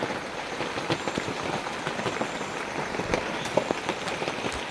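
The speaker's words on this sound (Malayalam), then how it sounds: "അപ്പോൾ ബാക്ക്ഗ്രൗണ്ടിൽ നിങ്ങൾക്ക് കേൾക്കാൻ പറ്റുന്നുണ്ടാവും മഴ എപ്പോഴും പെയ്തുകൊണ്ടിരിക്കുന്നതാണ്" Steady rain falls outside at night, a continuous close hiss with scattered heavier drop patters, with no talk.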